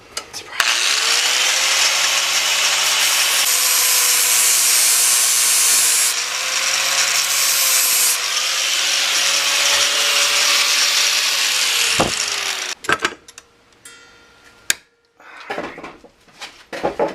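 A power grinder cuts flat spots on a tension pulley bolt from a Jeep 4.0 engine, a loud, continuous high whine that holds for about twelve seconds, then stops and gives way to scattered knocks and handling noises.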